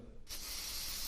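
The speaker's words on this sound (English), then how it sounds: "Just spray this bad boy some." A steady hiss of an aerosol spray can on a Timberwolf 150 wood chipper's blades, starting abruptly after a brief quiet moment and continuing close up without pause.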